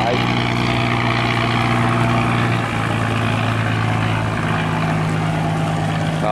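A boat engine runs on the water near a barge on a Vietnamese waterway, giving a loud, steady, droning hum that fills the whole stretch without a break.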